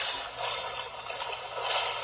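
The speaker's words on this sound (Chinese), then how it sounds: "独木舟划船的声音" Canoe paddling from a children's sound book: a continuous wash of splashy water noise with soft surges roughly every half second, like paddle strokes, steady and unaccompanied.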